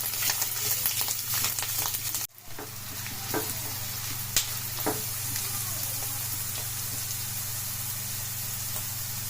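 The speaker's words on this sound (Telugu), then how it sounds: "మంచిగా ఇవి గోల్డెన్ బ్రౌన్ వచ్చేంత వరకు ఫ్రై చేసుకోవాలి" Pieces of bitter gourd frying in hot oil in a kadai give off a loud, steady close sizzle and hiss, with a brief dip and a few stirring clicks early on before settling into a continuous crackling fry.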